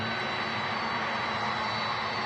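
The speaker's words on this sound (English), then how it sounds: "And I hear them CF6 engines." A Boeing 767 airliner with CF6 jet engines at Manchester Airport gives a steady, loud, broadband jet roar that holds evenly throughout, with no talk over it.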